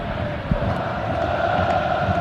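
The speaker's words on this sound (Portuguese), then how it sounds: "A torcida do Internacional se emocionou com o lance do Pato." Football crowd of Internacional supporters roars in a stadium during a 2007 Brazilian championship match against Corinthians, a broad sustained din of voices with a brief thump partway through.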